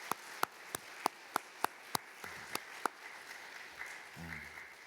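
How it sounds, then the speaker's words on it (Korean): Church congregation at a mothers' prayer meeting giving a few distinct, evenly spaced claps that thin out into scattered handclaps, with faint murmuring and a brief low voice near the end. "다시 한번 부교역자들을 위해서 큰 격려의 박수 한번 보내주시죠."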